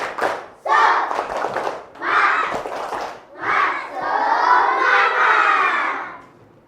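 A classroom of children loudly shouts a rhythmic spirit chant in bursts, mixed with claps and thumps, ending in a long sustained group cheer.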